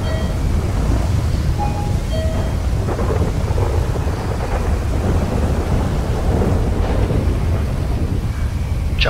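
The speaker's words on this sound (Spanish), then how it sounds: "Mira, mira esos truenos" Thunderstorm at night in GTA V, loud steady rain with rolling thunder rumbling continuously and close throughout.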